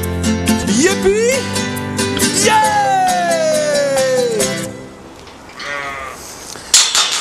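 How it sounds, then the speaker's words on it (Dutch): Sheep bleat close by in several loud, wavering cries, one long drawn-out call rising and falling, with other farm animal voices and some talk mixed in before it fades. "Of de geit, de schaap."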